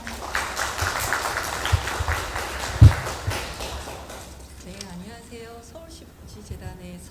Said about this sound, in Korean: 서종효 박사님을 환영의 박수로 맞이하겠습니다